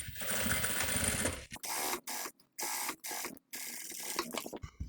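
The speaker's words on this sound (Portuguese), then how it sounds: "Viro e vou passar aqui a costurinha na medida do pé de máquina." A sewing machine stitches a double fabric pencil case, rapid mechanical clatter in several bursts separated by short pauses, close and clear.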